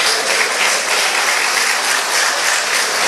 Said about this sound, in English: You might be clapping.